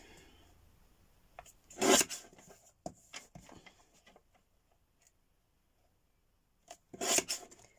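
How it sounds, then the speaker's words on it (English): A paper trimmer slices through book pages in two short, crisp rasping cuts several seconds apart, with faint scraping and tapping sounds between them in a quiet room. "I can't cut straight with this trimmer"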